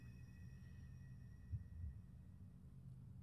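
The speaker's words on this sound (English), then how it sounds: "I hear a heartbeat." A faint, low heartbeat in a rural area outside Berlin in Hitman 3, with a couple of soft thumps over a constant electronic hum.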